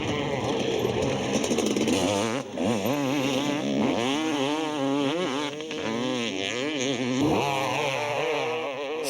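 Kawasaki motorcycles race in a field, engines whining with repeated rising and falling revs through gear changes, a continuous loud buzz from several bikes.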